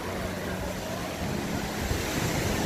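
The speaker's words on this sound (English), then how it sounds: "The waves are good." Ocean waves break and wash on the shore at Suryalanka beach, a continuous broadband roar of surf with wind noise buffeting the microphone.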